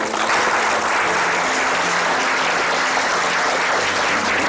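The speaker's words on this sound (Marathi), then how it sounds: "टाळ्या आल्या पाहिजे तुमच्या" Loud, sustained applause from a seated audience at a homeopathy clinic event, thick continuous clapping with a low hum beneath it.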